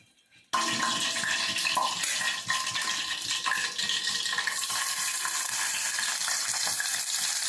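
After a brief near-silent start, onions hit hot oil in a pan for a chicken curry and erupt into a loud, dense sizzle that holds steady, close up, with no voices.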